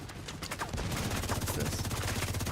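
Rapid gunfire from The Division 2, sparse shots at first, then a sustained fast burst of automatic fire that grows louder and continues to the end.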